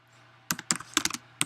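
Rapid keystrokes on a computer keyboard, about eight sharp clicks in irregular bursts over a low steady hum, close and moderately loud with no talking.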